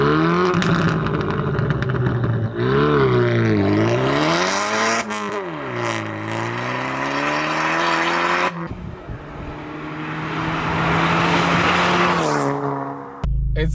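A 335hp Vauxhall Astra J GTC VXR drives hard, its engine revving and rising in pitch through several gear changes, loud and close throughout with a brief drop in between.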